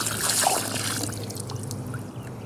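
Leftover sugar water dumped from a beehive feeder, a steady close splashing pour that runs the whole moment and tapers slightly toward the end, with no voices.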